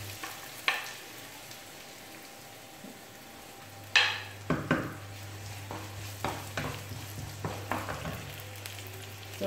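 Onions sizzle softly in a frying pan while a utensil stirs and scrapes, making repeated clacks and knocks against the pan over a steady background hiss.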